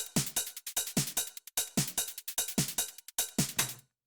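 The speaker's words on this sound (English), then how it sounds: "Really basic drum loop going on." A basic drum loop built from a preset pack repeats a simple pattern of punchy kicks, snappy hits and ticking hats. The groove is steady and sounds alone until it cuts off near the end.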